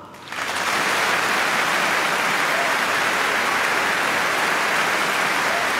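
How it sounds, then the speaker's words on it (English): A large concert-hall audience breaks into sustained applause welcoming the Chinese ambassador, rising quickly from quiet to a dense, even roar of clapping that holds loud to the end. "Give a big round of applause to welcome His Excellency Chinese Ambassador Mr. Liu Xiaoming"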